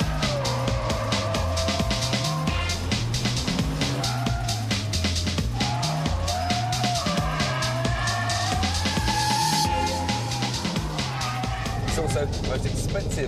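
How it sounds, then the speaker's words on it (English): A 414-horsepower four-wheel-drive Porsche 911 Turbo accelerates hard, its engine note climbing steadily through the gears, loud and close, with an occasional tire squeal and a voice talking over it throughout. "the most powerful of our four four-wheel drive beasts, with 414 horsepower, the Porsche 911 Turbo"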